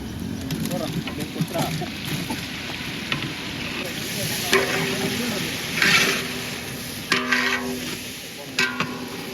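Tomatoes go into a chicken dish frying in a pan over a village cooking fire, a continuous sizzle with stirring and clattering knocks, while a voice talks over it now and then.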